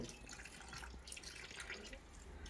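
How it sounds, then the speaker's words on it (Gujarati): A small amount of water poured into a vessel gives faint, quiet dripping and trickling that continues unevenly, with no voices. "આમાં થોડું પાણી વેર"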